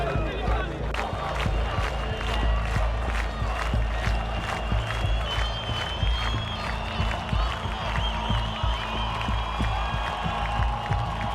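A large crowd cheers, claps and shouts continuously at a rally, a dense, loud roar with rhythmic chanting and voices throughout.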